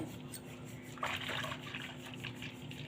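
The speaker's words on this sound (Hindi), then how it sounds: "दोस्तों इसको चलाते रहना है और इसमें पानी को ऐड करते रहना है।" Besan and yogurt batter is stirred while water is added, giving a faint, wet sloshing and trickling sound from about one second on, over a low steady background hum.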